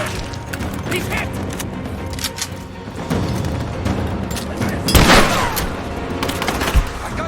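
Rapid, continuous gunfire and booming impacts fill a firefight in the video game Rise of the Tomb Raider, with dense overlapping shots, a couple of sharper blasts near the middle and end, and battle chatter mixed in.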